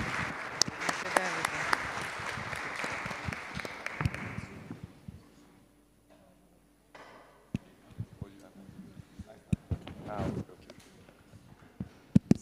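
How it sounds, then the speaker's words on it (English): Applause at a UNESCO Africa Week NGO forum conference, moderate clapping that fades out after about four seconds, followed by quiet room noise, scattered knocks and a few isolated claps. "Please, a round of applause for them."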